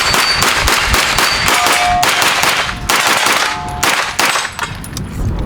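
Rapid gunfire from a Taran Tactical TR9 pistol, a dense string of loud, close, sharp shots with metallic ringing, firing almost continuously with brief gaps.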